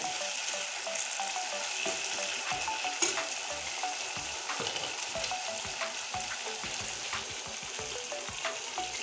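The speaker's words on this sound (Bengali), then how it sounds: "দিয়া কাঁচা গন্ধ যতক্ষণ না যাবে এতক্ষণ আমি সুন্দর করে কষিয়ে নেব" Fish head frying with potato and pointed gourd in a pan, a dense continuous sizzle broken by frequent scraping stirs and clinks of a utensil against the pan, close and fairly loud, no voices.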